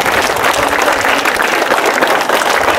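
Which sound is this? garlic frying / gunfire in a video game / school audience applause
school audience applause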